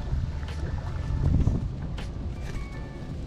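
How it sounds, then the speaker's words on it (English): Strong wind buffets the microphone from a fishing boat on open water near lily pads, a steady low roar with louder gusts throughout and no talking. "this wind is brutal"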